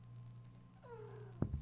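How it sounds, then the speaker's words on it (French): A single short cat meow in a horror video game, a falling tonal cry over a steady low hum, followed by a brief thump. "Ah non, ça c'est un chat."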